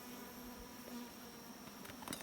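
Honeybees buzzing steadily around an open beehive frame during a beekeeping inspection, a continuous soft drone with a few closer passes near the end.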